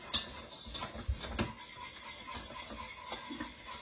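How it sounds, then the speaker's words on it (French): Flour stirred into melted butter in a pan off the heat for a white roux, a soft, low rasping rub of the spoon with a few faint scrapes, close and quiet, with no speech. "on verse la farine en une seule fois et on remue bien"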